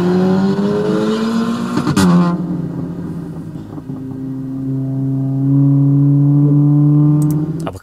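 A Volkswagen Golf R MK7 fitted with an XForce valved exhaust revs up and drops back, then holds a steadier, droning engine tone. The sound is loud and close, with no one speaking.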